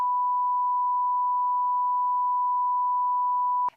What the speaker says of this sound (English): We have to beep out some numbers.